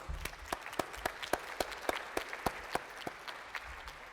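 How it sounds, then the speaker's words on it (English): A crowd applauds steadily, with sharp individual claps standing out in a fairly even rhythm throughout, somewhat distant. "Give them another massive round of applause, please."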